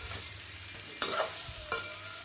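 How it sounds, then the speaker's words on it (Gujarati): Muthiya fry in hot oil on a high gas flame with a soft, steady sizzle. Two sharp clinks of a stirring spoon against the pan cut through, all quiet and close. "હવે આપણે એને તળીશું."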